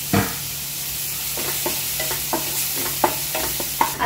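Garlic fries in olive oil for vegetable momos at a Goan market stall, a steady close sizzle punctuated by regular spatula scrapes and taps against the pan, no speech.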